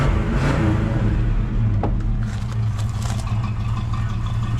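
A car's engine runs on a cold morning start with a touchy throttle, a loud, steady low rumble with slight rev swells and some clatter, close by.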